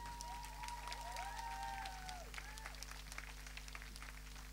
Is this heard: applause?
yes